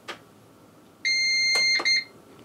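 CyberPower CST1500SUC sine-wave UPS beeping on power-up: a loud, steady electronic tone of about half a second, broken by a click, then a short second beep, heard close up with no talk.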